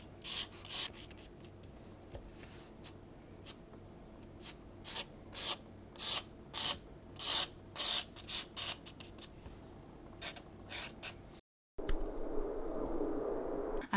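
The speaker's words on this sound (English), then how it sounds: "I'm first just going to try to sketch out a little composition with charcoal." Charcoal sketching on paper, a series of soft, close scratchy rubbing strokes in short bursts with brief pauses, faint and dry, ending in a louder rustling scrape.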